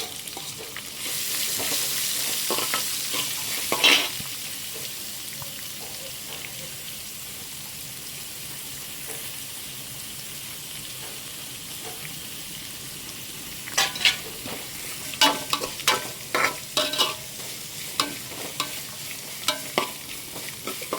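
Finely chopped onion sizzling in a pan for tomato rice, with a steady low fry punctuated by scraping stirs and clatter near the start and again in the second half.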